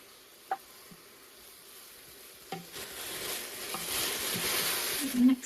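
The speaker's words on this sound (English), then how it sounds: "Give that a bit of a stir." Tomato puree stirred into vegetables and herbs in a Ninja Foodi PossibleCooker Pro 8-in-1, with a soft sizzle underneath, a couple of sharp knocks early on and a fuller scraping, bubbling stir building toward the end.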